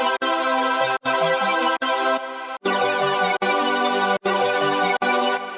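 Serum 2 synth chords driven by a fast arpeggio, dense and bright, glued with OTT compression; sustained blocks broken by short gaps roughly every second, loud and upfront with no voice.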